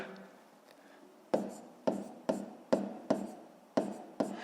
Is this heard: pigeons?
no